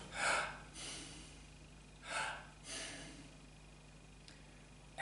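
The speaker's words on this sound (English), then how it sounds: "breathing through your mouth and out your nose" Slow, deliberate breathing in through the mouth and out through the nose during a breathing exercise: about four audible airy breaths, close and quiet, with stronger bursts near the start and around the middle, separated by near silence.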